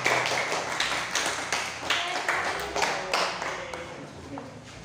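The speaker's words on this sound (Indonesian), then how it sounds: "Tepuk tangan dulu untuk kelompok 1, 2, dan 3." Students in an Indonesian classroom clap for their classmates' discussion groups, a steady patter of many hands at moderate loudness, with some voices mixed in.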